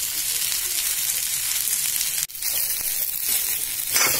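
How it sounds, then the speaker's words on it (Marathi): Okra stir-frying in a pan as a village-style offering dish, a dense continuous hiss of frying that pauses for a moment and then resumes close and steady, with no talking. "परतत राहायचं सतत."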